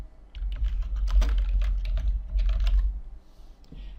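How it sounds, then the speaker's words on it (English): Steady run of computer keyboard keystrokes as watermark text is entered in video-editing software, close and fairly loud over a low hum, thinning out near the end. "type in the name for the watermark"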